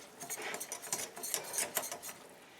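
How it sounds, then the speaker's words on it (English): Bacon grease, butter, flour and mustard powder roux bubbling in a pan, giving a soft, crackly patter of small pops and sizzles that stays steady and close. "There, she's starting to bubble."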